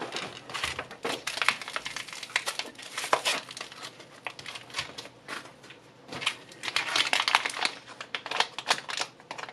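A plastic package crinkles and rustles in irregular bursts while a wristwatch is unpacked, close and fairly quiet, with no talking.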